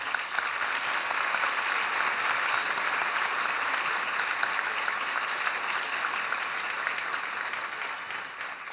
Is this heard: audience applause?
yes